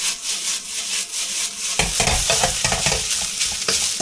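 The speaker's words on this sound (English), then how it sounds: "Give it some good tosses" Kimchi and smoked brisket fried rice tossed in a hot preheated pan, steady loud sizzle with rhythmic scraping and tossing bursts starting after a quieter opening second, no voices.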